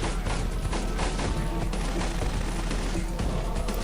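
Dense gunfire from the video game Delta Force Black Hawk Down, a loud continuous fusillade of rapid shots and bursts with booms mixed in, filling the whole stretch.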